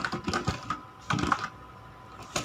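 Close keyboard typing on a computer while entering HTML table code, two quick clusters of clacking keystrokes separated by a pause, with no voice.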